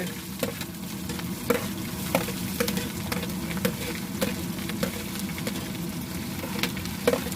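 Masala for mutton curry fries steadily in a pot at an outdoor picnic cookout, a dense continuous sizzle broken by regular scraping stirs of a spoon, close and alone without talk.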